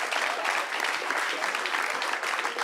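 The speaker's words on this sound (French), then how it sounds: "On l'applaudit quand même." Applause from a studio audience at a French debate programme, a steady dense patter of many hands clapping, fairly loud and continuous throughout with no voices over it.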